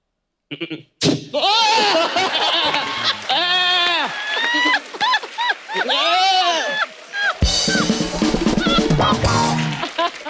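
A voice imitates an angry billy goat, with loud, wavering bleat-like cries repeated over several seconds, followed by a burst of audience laughter and applause.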